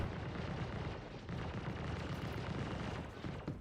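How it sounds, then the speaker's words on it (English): Gunfire in the Star Citizen space game, a steady dense rumble of distant shots and booming fire running continuously at moderate loudness with no talk. "I hear the guns again"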